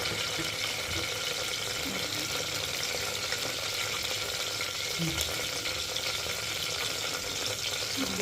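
Tempering spices and onions for mutton curry sizzle in a hot pan with a steady, continuous fry that stays loud and even throughout, broken only by faint stirring clinks.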